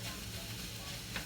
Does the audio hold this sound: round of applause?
no